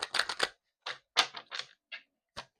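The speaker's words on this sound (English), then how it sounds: "Let's go ahead and give the deck some shuffles." A deck of tarot cards is shuffled in short, crisp bursts of riffling and tapping, close and clear, separated by brief silences.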